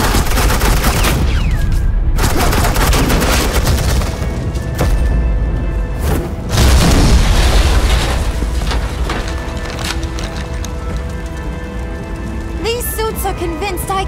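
Gunfire rattles through a scene in the Batman: The Enemy Within video game: sustained loud bursts and booms layered with crackling, rain-like debris, and a voice briefly heard amid the barrage.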